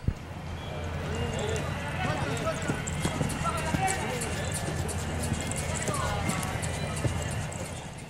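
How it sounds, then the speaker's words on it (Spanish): A horse at a charreada moves in the arena with rhythmic hoof clip-clops on the ground under continuous announcer commentary and crowd ambience. "Así lo estaba moviendo ese caballo ahí don Juan Palomino"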